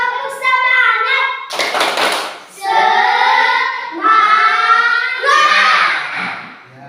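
In a classroom, children chant together and punctuate the rhythm with a loud burst of group clapping, followed by more sung chanting, all close and lively.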